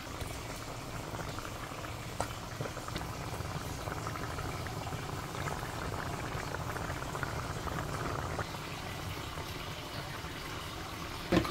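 A covered pot of yellow rice with veggies bubbles and simmers on a stove, a soft steady boiling hiss with faint pops, fairly quiet and close.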